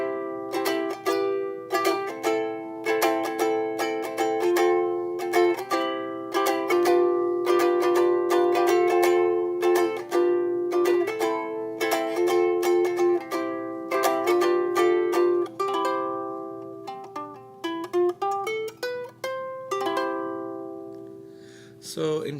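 A small solid mahogany pineapple ukulele played alone, bright plucked and strummed notes ringing out steadily, slowing into a few lighter picked notes near the end.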